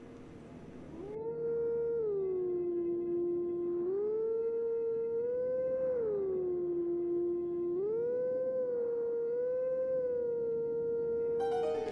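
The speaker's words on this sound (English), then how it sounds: "Oh, howl." A wolf howls in The Legend of Zelda: Twilight Princess HD, a long, loud, clear tonal howl that rises and falls in several smooth swells over a quiet backdrop.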